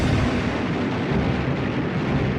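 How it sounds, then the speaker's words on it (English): Dense, rumbling booms and crackling blasts roll together continuously, like heavy naval gunfire and explosions at a distance, from a night attack on the cruiser USS Vincennes off Guadalcanal. "The men aboard USS Vincennes awake to gunfire and explosions"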